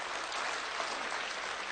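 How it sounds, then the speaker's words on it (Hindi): An audience at a spoken address claps steadily, a dense and even burst of applause with no talk over it. "अच्छी बात पर अच्छी ताली बजनी"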